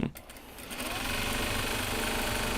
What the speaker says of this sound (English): Because we're sewing bags right now.